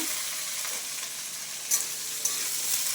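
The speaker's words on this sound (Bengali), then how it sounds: "এই ধোঁয়া উঠতে শুরু করে দিয়েছে কড়াই থেকে। এইবার চলে যাচ্ছে আলু, চলে গেল আলু" Potatoes hitting a hot smoking wok and being stirred, a loud continuous sizzle with a couple of sharp scraping clatters from the spatula, close up and without voices.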